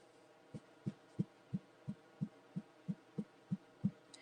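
A series of about eleven soft, regular, high-pitched taps or plucks of stretched cheap t-shirt fabric, evenly spaced and fairly quiet, with faint background noise between them.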